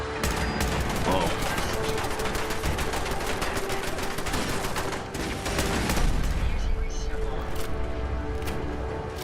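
Rapid bursts of turret gunfire in Fallout 4 crackle continuously for the whole stretch, dense and loud, with a voice talking underneath.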